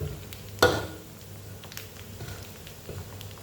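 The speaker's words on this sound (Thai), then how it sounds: "ตอนนี้หนังหมูเริ่มแตกพอแป๊ะพอแป๊ะแล้ว" Pork skin deep-frying in hot oil for cracklings gives one sharp loud pop near the start, then quieter crackles and a low sizzle that carry on alone.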